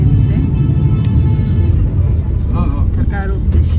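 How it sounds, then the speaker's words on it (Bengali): A bus pulls away on its departure for Dhaka, its engine giving a loud, steady low rumble throughout, with faint voices briefly audible over it. "আমাদের বাসটা ছেড়ে দিছে"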